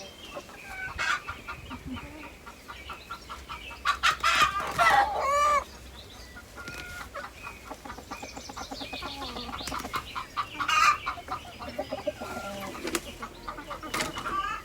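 Hens cluck and chatter repeatedly nearby, with a rooster crowing and occasional wing flaps, fairly quiet overall.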